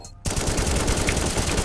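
Rapid automatic gunfire in CS:GO erupts suddenly after a brief quiet moment, a loud dense stream of shots continuing without pause to the end.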